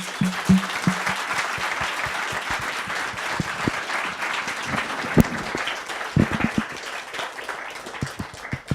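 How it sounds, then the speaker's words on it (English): A live audience claps at a Data & Society evening talk with Bruce Schneier, a dense, steady round of applause lasting the full stretch, with a few sharper individual claps standing out near the end. "let's give a huge round of applause."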